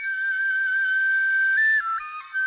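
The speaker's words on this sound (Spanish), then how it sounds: "El suberotarra Michel Echecopart ha creado una réplica exacta de las flautas prehistóricas encontradas en Istúriz, realizadas con los huesos largos de las patas de buitres y quebrantahuesos del Pirineo" A replica prehistoric flute, copied from Isturitz finds made from the long leg bones of vultures and bearded vultures of the Pyrenees, plays a pure, breathy sustained tone that shifts through a few stepped pitch changes near the end.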